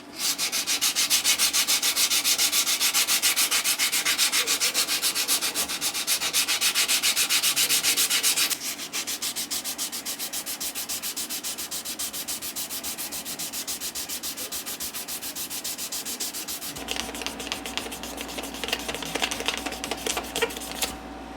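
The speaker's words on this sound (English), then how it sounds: "right now we need to go through the sand grits on this. We're going to start with 220 and go all the way up to 800" A knife handle is hand-sanded through grits from 220 to 800, a close, continuous rapid back-and-forth rasping that shifts in texture partway through, heard alone.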